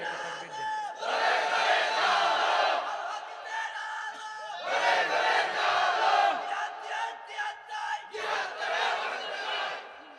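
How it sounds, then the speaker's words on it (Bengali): A large crowd at a religious sermon gathering shouts takbir in loud unison, three long surging bursts of massed voices separated by short pauses. "আওয়াজ করে একটা তাকবীর দেন।"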